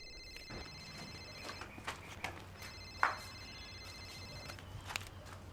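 A telephone rings faintly in a quiet room, giving a few brief electronic trills at intervals among soft ticking and background hum.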